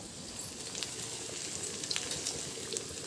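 Ghee sizzles in a hot pan before rice goes in for fried rice, a steady, close crackling hiss with small pops scattered throughout.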